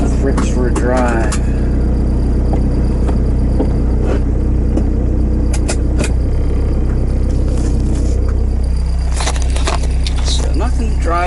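A 1979 VW Rabbit diesel car with a greasecar setup is being driven. A loud, constant low engine and road rumble fills the cabin, with some rattles, jangling keys and scrapes, while people talk over it at times.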